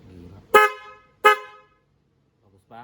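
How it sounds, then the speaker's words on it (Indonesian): A used horn taken from a Peugeot 3008 and fitted to a Peugeot 307 blares two short, loud, bright honks about a second apart, with low background murmur before and a voice briefly speaking afterward. "Kita coba klaksonnya ya, jadi bentuknya kayak gini. Kita coba suaranya."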